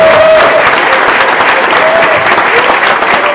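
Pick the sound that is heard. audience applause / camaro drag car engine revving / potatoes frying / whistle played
audience applause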